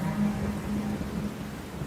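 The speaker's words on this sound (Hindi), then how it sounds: "बारिशें आ गई" Steady rain with low thunder rumbling underneath, a continuous wash of close downpour lasting a couple of seconds without any voices.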